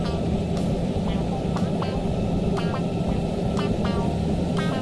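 An airliner lands at Gran Canaria in the flight game Project Flight, heard from the cockpit as a steady, loud engine and air rumble with faint recurring clicks and tones.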